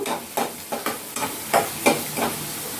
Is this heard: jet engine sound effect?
no